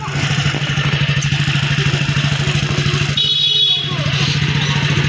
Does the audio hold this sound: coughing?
no